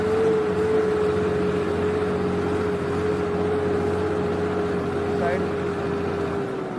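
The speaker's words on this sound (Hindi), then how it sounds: "ट्रैक्टर का जोर भी बहुत लगता है, हालांकि बहुत पावरफुल ट्रैक्टर है।" A powerful tractor ploughing a field at an ashram in Sirsa drones with a steady, loud engine hum that holds at one pitch throughout, with faint voices underneath.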